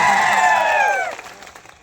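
Crowd at a political rally in Chhota Udaipur breaking into loud cheering and applause with whoops and shouts, strong at first and then tapering off quickly.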